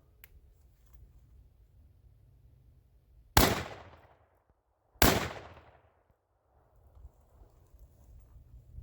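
A Panzer EG200 shotgun firing Federal Speed rounds outdoors during field testing, two loud sharp blasts about two seconds apart with ringing decay, then quiet handling noise and faint background rustle.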